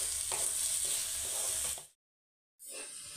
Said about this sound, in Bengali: এবার এটা ভাজা ভাজা হয়ে এসছে।